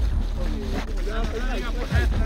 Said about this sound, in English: Hey, that wind blowing.